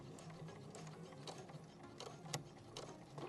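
A sewing machine stitches back and forth along an existing seam on a fabric-scrap coin pouch with cord, giving a steady mechanical whir with rapid needle clatter, close and continuous throughout.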